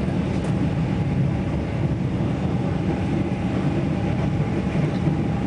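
Inside a Melbourne suburban train riding out from the city toward St. Albans, a steady, loud rumble and drone of the carriage continues evenly with no voices.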